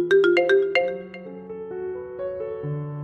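A mobile phone plays a melodic ringtone-style alert for an incoming OTP message, a bright sequence of chiming notes followed by slower sustained tones, clear and alone.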